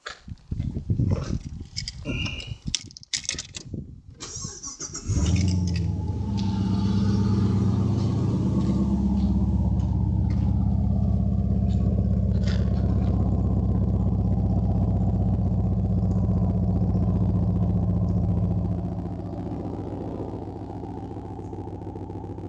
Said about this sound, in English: I'll show you that when I start the car, which I'll go and do now.